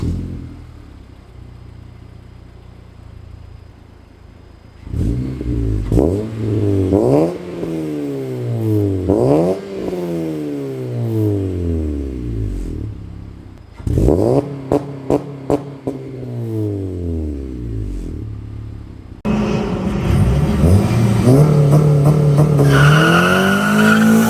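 A 9th-generation Honda Civic Si revs hard through a modified loud exhaust, climbing and falling repeatedly, with quick blips and crackles, then a sustained roaring drone near the end.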